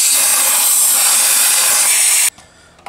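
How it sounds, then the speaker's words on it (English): Compressed air blasting through the ports of a Makita vacuum during cleaning, a loud continuous hiss for over two seconds that cuts off abruptly into near silence. "what's very handy for cleaning this out, if you have it, is compressed air. And you go back through and just blow out all the ports."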